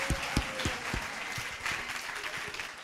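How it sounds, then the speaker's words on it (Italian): An audience applauds two contestants at a talent show, clapping at moderate volume from a short distance. It opens with a few sharp, separate claps, then settles into a steady patter. "Direi che ci sta un ultimo applauso alle due concorrenti."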